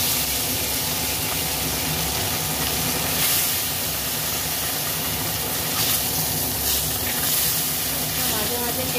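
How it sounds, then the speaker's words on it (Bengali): Fish frying in a pan before going into a fish curry with ridge gourd and potato: a steady, loud, close sizzle and hiss that runs unbroken throughout. "মাছটা ভেজে নিচ্ছি।"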